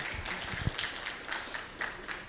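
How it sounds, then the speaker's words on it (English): A standing audience at a child development learning forum applauds with a soft, continuous patter of many hands and a few louder close claps, fairly faint and heard from a distance. "I'm requesting that we be upstanding and applauding."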